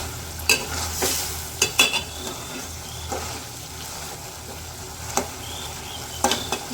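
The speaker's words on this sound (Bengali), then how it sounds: "এখন হচ্ছে ঝোল দিয়ে দেবো" Broth poured into a sizzling curry in a pan on a village kitchen stove, with close, irregular stirring clatters and scrapes over a soft steady frying hiss.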